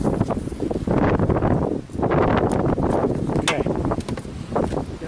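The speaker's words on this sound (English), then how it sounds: "It's really windy." Strong gusting wind buffets the microphone in continuous roaring bursts, with a brief lull partway through.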